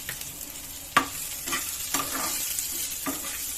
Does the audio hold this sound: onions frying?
yes